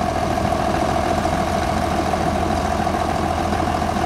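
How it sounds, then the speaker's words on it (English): A farm tractor engine runs steadily while planting strawberries in a field, a continuous close, loud idling drone with a constant hum and no pauses or talk. "driving the tractor"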